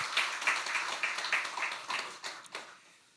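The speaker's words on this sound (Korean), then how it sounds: "오늘 우리 경의의 박수만 하겠습니다" A church congregation applauds during a Sunday service after the choir's praise song, a moderate burst of clapping with a loose steady beat that fades out toward the end.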